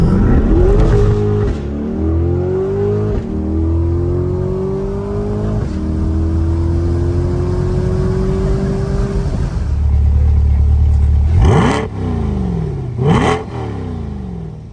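A naturally aspirated car engine pulls hard while driving, its loud close roar climbing in pitch through several gears with brief dips at each shift, then two sharp revs near the end.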